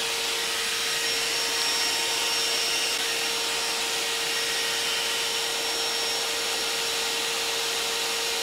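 A shop vacuum runs steadily in a workshop during a DIY caster wheel build, a loud continuous whine with a constant tone throughout and no talk.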